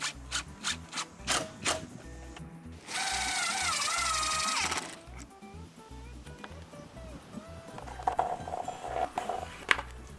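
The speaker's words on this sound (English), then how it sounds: "and then I screw it into place." A power screwdriver drives screws to fix a Trex deck's bottom rail in place, one steady whirring burst of a couple of seconds, framed by nearby clicks, taps and handling knocks.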